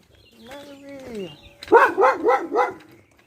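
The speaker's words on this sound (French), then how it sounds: "Là, on peut dire il y a des chiens." Dogs bark outdoors in a forest, a run of four or five rhythmic, fairly loud barks following a stretch of talk, with a voice audible before the barking.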